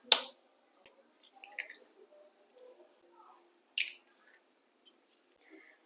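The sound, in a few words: cracking eggs into a bowl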